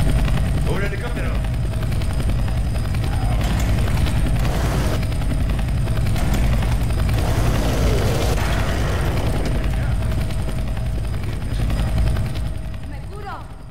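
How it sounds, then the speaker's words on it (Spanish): A helicopter flies overhead, its steady rotor roar and low engine rumble filling the scene for over ten seconds, with voices shouting faintly beneath the constant noise. "¡Un helicóptero!"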